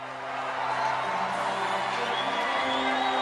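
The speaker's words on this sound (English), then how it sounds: "after all the applause and excitement, Donald Trump spoke for exactly 41 seconds" Continuous crowd noise with cheering and whoops at a Donald Trump campaign appearance, loud and steady throughout with no talk over it.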